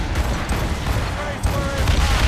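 Ship cannons boom in Assassin's Creed Rogue during a naval battle, several dull blasts under continuous shouting and battle noise.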